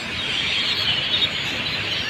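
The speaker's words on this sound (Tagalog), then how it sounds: "Ano kaya ibon yung mga yan? Ang dami." A large flock of birds calling together outdoors, a dense continuous chorus of high chirps blended into a steady wash, moderately loud and heard without talk.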